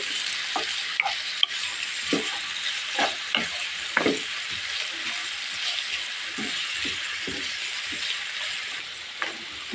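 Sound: stirring garlic paste frying in a pan

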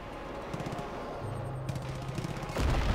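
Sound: gunfire in the video game Far Cry 5

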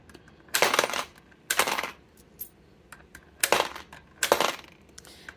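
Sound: coins being dropped and counted for cash envelopes

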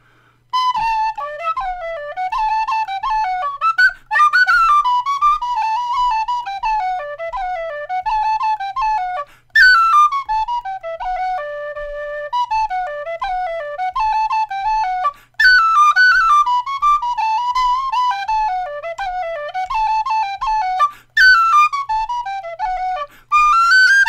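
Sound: tapered bore whistle playing a tune

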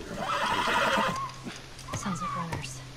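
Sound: horse neighing and hooves in The Last of Us video game

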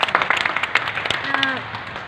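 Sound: congregation applauding at a prayer meeting

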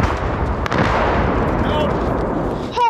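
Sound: artillery shelling in war zone

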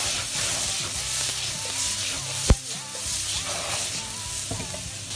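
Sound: stir-frying asparagus and shrimp in a hot wok

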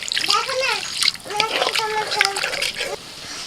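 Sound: water poured into cooking spice mixture

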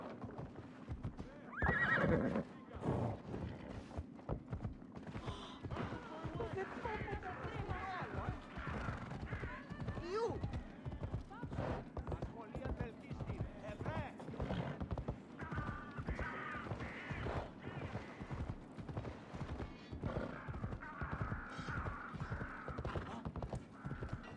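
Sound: horse neighing and hooves in the video game Assassin's Creed Odyssey

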